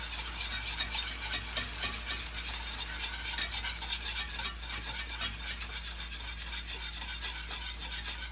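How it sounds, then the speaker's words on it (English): A whisk beats beef broth into flour in a pan, giving a steady, close scraping and swishing that runs continuously in quick rhythmic strokes with no talking. "And a whisk, and just whisk it in."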